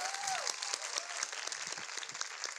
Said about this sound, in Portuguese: Uma salva de palmas para a Daiane